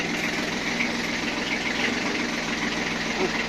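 A Kubota Aste A15 tractor engine idling steadily as it slowly leaves a garage, a constant loud mechanical drone with a knocking undertone and no pauses.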